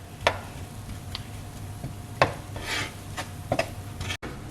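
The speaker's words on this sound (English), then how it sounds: "And we're just gonna let this cook and keep stirring it around." Onions cooking in butter in a pan, stirred now and then, with soft steady sizzling beneath a few sharp scraping clicks of the utensil against the pan.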